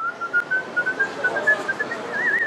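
A clear, melodic human whistle carries a wavering tune as performed whistled music, rising and falling in short phrases and ending in a warbling trill.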